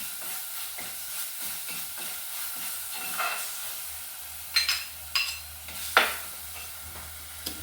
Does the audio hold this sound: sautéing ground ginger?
yes